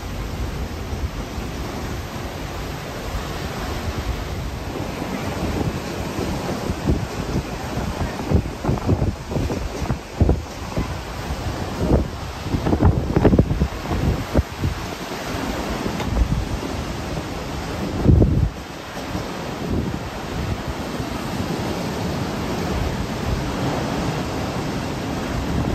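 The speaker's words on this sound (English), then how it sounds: "This is what's known as a mistral winds from the northwest." Strong northwesterly mistral wind on the Mediterranean, heard from a cruise ship, roars steadily with choppy waves and splashing spray, blustering and buffeting the microphone throughout, loud and close.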